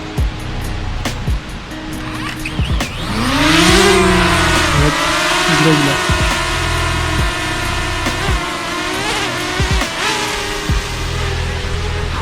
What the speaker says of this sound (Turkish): Drone uçuruyoruz şu anda.